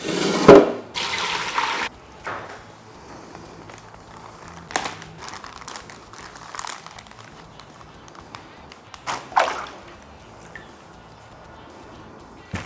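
Marinated chicken wings in a plastic bag are pushed down into a sink of water, with sloshing, splashing and crinkling plastic, a few sharper splashes standing out over steady running water.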